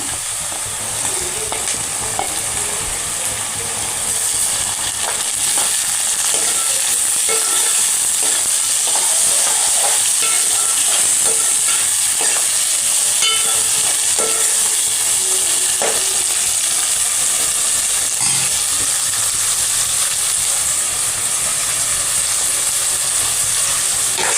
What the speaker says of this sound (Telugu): ఉల్లిపాయలు ఫ్రై అయిపోయినాయండి కొంచెం బ్రౌన్ కలర్లోకి వచ్చినాయి టమాటాలు కూడా వేసేసుకుంటున్నాను